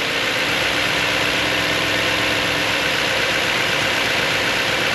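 Car engine idling steadily after a throttle body service, a constant broadband rumble with an even drone and no revving, close and loud throughout.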